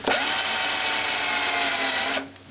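A power drill countersinks a screw hole in a wooden drawer front, held by hand rather than in a pillar drill, giving one steady, loud, high-pitched whine for about two seconds before spinning down abruptly.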